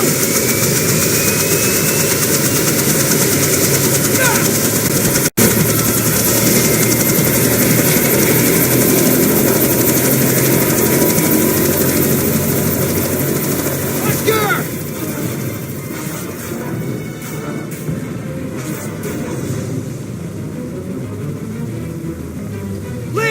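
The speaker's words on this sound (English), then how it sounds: "The chopper! Right now!" A helicopter flies overhead during a tense film action scene, its engine and rotors making a loud, continuous drone. A sharp click cuts in around five seconds, the roar eases slightly later, and voices come and go underneath.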